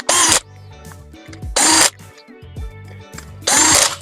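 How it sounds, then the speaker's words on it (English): Small screws being driven in with a power driver to fasten the cutting disc onto the cutting motor of a Husqvarna Automower robotic mower, three loud whirring bursts separated by quieter handling clatter. "screw the cutting disc down into the cutting motor."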